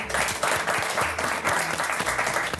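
Studio audience at a Halloween evening show applauding a guest's arrival, a dense, loud burst of clapping that fills the whole stretch, with a low musical backing underneath.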